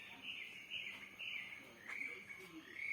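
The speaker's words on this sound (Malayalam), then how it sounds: "ഒരുപാട് കിളികളുടെ സൗണ്ടൊക്കെ ഉണ്ട്." Birds chirp steadily among many trees near a home in the morning, a continuous high twittering chorus at moderate distance with brief louder calls rising over it.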